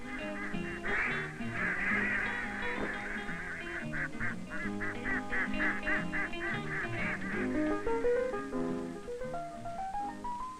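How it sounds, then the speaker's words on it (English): Farm ducks on a kibbutz quack repeatedly in a busy, overlapping chorus, loud and close, with some honking calls mixed in and no talk. "The ducks will soon be eaten."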